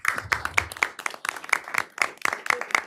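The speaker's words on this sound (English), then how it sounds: "I'd like for y'all to stand up so we can give you a round of applause" A small group applauds Public Works staff at a committee meeting, the claps sparse and uneven rather than a dense roar, fairly quiet in the room.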